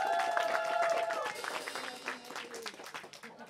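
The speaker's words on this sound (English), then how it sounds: "Give him a little round of applause." Scattered applause and a few cheers from a small audience at a band performance in a record store, moderately quiet and thinning out toward the end, with some voices mixed in.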